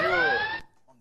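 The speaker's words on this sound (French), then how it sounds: "Greta, Est-ce que l'un ou l'une d'entre vous souhaite buzzer ce mini secret sans casser le buzzer" A game show buzzer in a reality TV house sounds once, a loud steady electronic tone lasting about half a second before cutting off abruptly.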